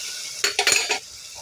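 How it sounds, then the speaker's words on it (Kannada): A spoon stirs tomato and onion frying in a pan for potato sagu, giving a few quick scraping clinks in a short cluster over a faint background sizzle. "ಈಗ ಚೆನ್ನಾಗಿ ಫ್ರೈ ಮಾಡ್ತಾಯಿದ್ದೀನಿ ಫ್ರೆಂಡ್ಸ್."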